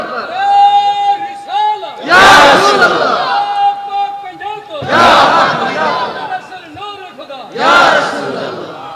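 A large gathering at a religious sermon answers the takbir call with a loud collective chant, three roaring shouted responses rising and falling, with a lead voice speaking between them.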